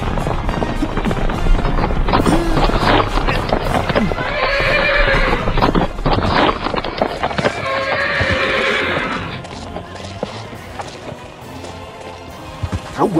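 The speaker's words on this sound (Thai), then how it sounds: "กำลังขับม้าเข้ามาแล้ว" Horses gallop in as riders arrive in a historical Ayutthaya-era setting, with loud, close clip-clop hoofbeats and repeated neighing and whinnying, the hooves fading toward the end.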